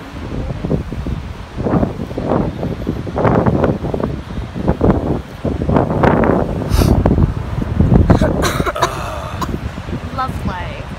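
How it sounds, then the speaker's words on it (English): Wind buffeting the microphone outdoors at a spot with flies, steady gusty rumble throughout as a person talks close by. "No, I'm not impressed by the wind."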